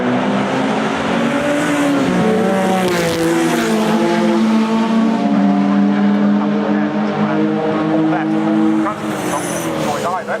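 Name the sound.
sports racing cars on track at Oulton Park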